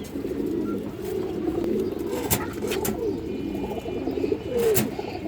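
Chila pigeons, a stone-eyed male among them, coo in repeated low, throaty phrases close by, with brief sharper calls and a steady murmur of background noise.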